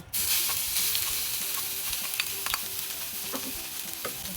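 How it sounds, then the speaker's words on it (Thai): Steady, close sizzle of pounded Thai curry paste frying in hot oil in a pan, with occasional scrapes and stirs of a utensil. "ใส่น้ำมันลงไปในกระทะ พอ น้ำมันเริ่มร้อน เราใส่เครื่องที่เราโขกลงไปค่ะ"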